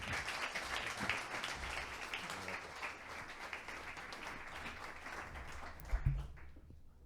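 Audience at a business forum on artificial intelligence in Vigo applauding the mayor, a dense, steady wash of many hands clapping at moderate distance that fades out near the end.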